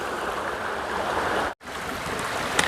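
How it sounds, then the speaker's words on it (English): A small stream on the Appalachian Trail flows steadily in a close, continuous wash of running water, with one brief dropout partway through. "here's a nice little stream for you. Flowing very well"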